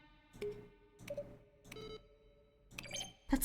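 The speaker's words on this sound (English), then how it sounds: "Each sound is a mix of a keyboard stroke and a synthesized tone." Keyboard strokes blended with synthesized tones come from The Stanley Parable video game, sounding as four or five short tonal clicks spaced evenly and fairly quietly, with no talking during them.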